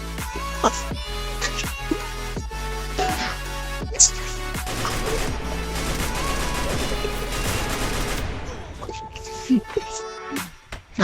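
Gunfire in a shooter video game, with repeated rapid shots in bursts forming a steady rhythm over most of the stretch, a louder crack near the middle, then sparser shots toward the end, all under game music and effects.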